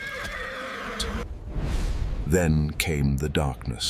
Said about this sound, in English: Horses panicked, trampling riders beneath iron hooves.